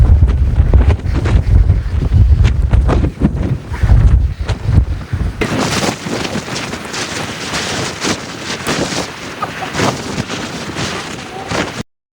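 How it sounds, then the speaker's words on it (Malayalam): Strong coastal wind at Malin Head, Ireland, buffets the microphone with loud, gusty rumbling that shifts to a harsher, broad hiss partway through. "നിങ്ങൾക്കിപ്പോൾ കേൾക്കുന്ന കാറ്റടിക്കുമ്പോഴുള്ള ശബ്ദം കേട്ടാൽ മനസ്സിലാവും"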